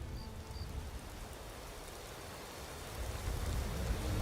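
Steady, incessant rain falls as a continuous even hiss, growing slightly heavier toward the end, with no voices.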